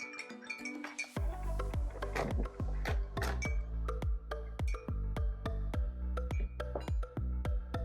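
A spoon stirs a mixture in a bowl in a home kitchen, making a quiet run of repeated clinks and taps against the bowl that ring briefly, with no voices.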